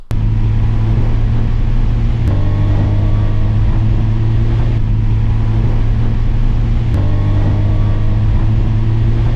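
Honda engine with VTEC pulling hard under load, a loud steady drone with a rising harmonic whine and brief breaks at gear shifts, heard close and alone.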